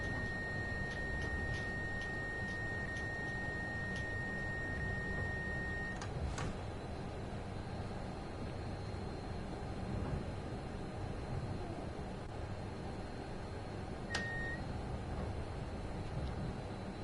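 A cab alarm in a Train Sim World 5 cargo train at Cajon Pass holds a steady high tone over a low rumble and stops abruptly partway through. Later a single short beep sounds, and the rumble continues alone.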